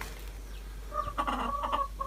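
Hens, one of four brought in to brood on eggs, give a few soft, close clucks in a short burst after a quiet start, with a faint steady hum beneath.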